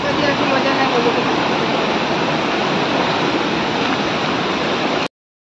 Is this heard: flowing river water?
yes